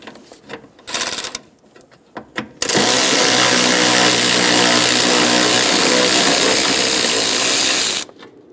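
A powered driver spins a 10mm socket to back out a bracket bolt on a 2003-2008 Honda Pilot engine. A few scattered clicks and knocks come first, then a loud, steady whirring burst runs for about five seconds and cuts off abruptly.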